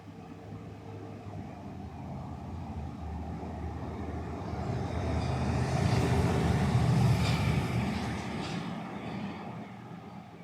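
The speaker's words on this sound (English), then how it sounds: "I hear a truck in the distance now." A truck passes in the distance near a redwood grove bordered by parking lots, a low engine rumble that slowly swells to a broad peak midway and then eases back down, faint and far off.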